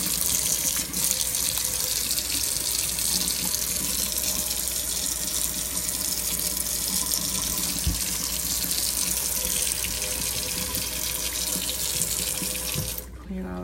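Tap water runs steadily and loudly to rinse a freshly cleaned, shiny surface, a continuous broadband splashing gush that holds unbroken throughout and cuts off abruptly at the very end.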